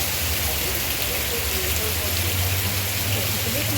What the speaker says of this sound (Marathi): जाताना पाऊस भरपूर असल्याकारणाने व्हिडिओ काढायला थोडा प्रॉब्लेम होतो आहे